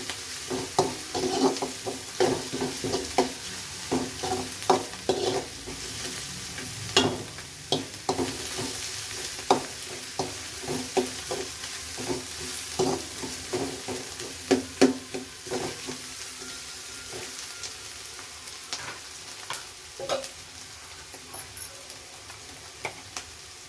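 Onions stir-fried with ginger-garlic paste for a karimeen (pearl spot fish) gojju, giving a steady close sizzle broken by frequent scraping and clinking spoon strokes against the pan, with no voices.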